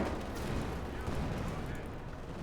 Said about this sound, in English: Mortars blasting away.